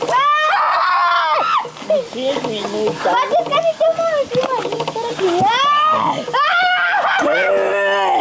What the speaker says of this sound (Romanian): în 5 minute terminăm cu răgnitul, așa că strigați cât puteți